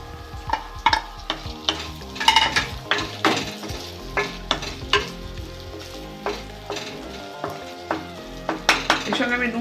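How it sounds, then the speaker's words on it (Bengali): Tomatoes hit a pan of ginger and garlic frying in oil for a Bombay duck (lote macher jhal) curry. A steady sizzle runs under repeated, rhythmic scrapes and clinks of a spatula stirring against the pan, with no talk. "আমি এবার টমেটো গুলো দেবো।"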